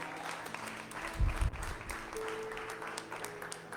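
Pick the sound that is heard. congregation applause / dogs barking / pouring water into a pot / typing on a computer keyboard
congregation applause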